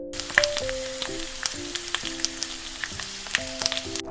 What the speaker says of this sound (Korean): 토핑으로 넣을 소세지에 칼집을 내서 구워줘요